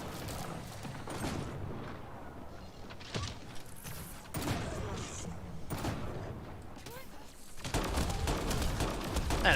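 Automated turrets fire in Mass Effect Andromeda during a fight with a Fiend, sending rapid bursts of gunfire and mechanical clatter over a steady battle din, with a voice talking at times.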